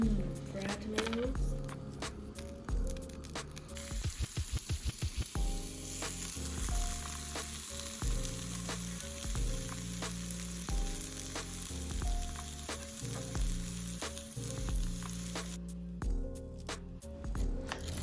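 Tomatoes, seasoned and sliced, sizzle steadily in a frying pan for the whole stretch, a soft continuous hiss partly buried under louder tonal background music.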